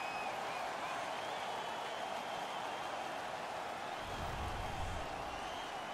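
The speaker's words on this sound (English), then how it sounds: "The home crowd is ecstatic. They're making all kinds of noise." Home crowd in an NHL 16 hockey arena roaring after a fight, a continuous loud wash of cheering and noise that stays even throughout, with a slight low swell near the end.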